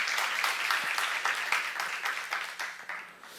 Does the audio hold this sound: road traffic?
no